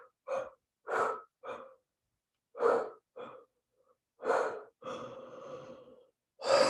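Several deep, breathy exhalations and gasps during a guided grounding meditation, coming in separate bursts with short pauses, the last one drawn out into a long sigh-like breath, close and alone with no talking.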